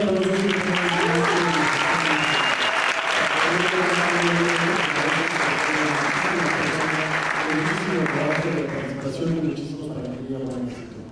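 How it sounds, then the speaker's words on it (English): Audience applause at a 2011 Xango event, a dense, steady clapping crowd with tonal sounds riding over it, holding strong before tapering off in the final seconds. "So let's give them a round of applause."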